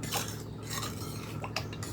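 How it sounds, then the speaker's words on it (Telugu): Dal mixture being stirred in a pot before pressure cooking, with soft clinks and scrapes of a utensil against the metal. The sounds are faint, close and irregular, with no talking. "ఒకసారి మొత్తం ఇట్లా మిక్స్ చేసేసుకోండి, మంచిగా"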